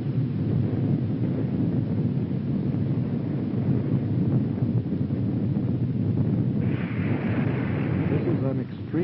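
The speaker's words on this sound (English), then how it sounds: "Our nation successfully explodes its second nuclear bomb in the sky over the western part of our country." Rumbling roar of a nuclear bomb exploding in the sky over western China, from a 1966 Chinese film: a dense, loud, sustained low boom and rush like thunder and wind, continuous throughout with no let-up.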